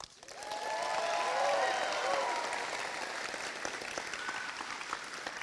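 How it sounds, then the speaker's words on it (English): Audience applause at a university graduation ceremony in Hull. A broad wash of clapping from a large crowd swells quickly, holds and then eases slightly, with faint voices mixed in. "then everybody will applaud"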